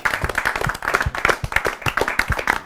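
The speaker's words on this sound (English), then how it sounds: "So I think you deserve a massive round of applause just for that." An audience breaks into a round of applause at a live Q&A event, dense rapid clapping from a small crowd, loud and close throughout.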